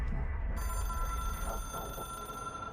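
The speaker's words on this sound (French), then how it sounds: "Le téléphone sonne." An old-style telephone rings inside the video game Control, a steady bell tone sounding continuously over a low rumbling game ambience.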